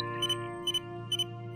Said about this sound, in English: There's a beeping noise coming from the TARDIS.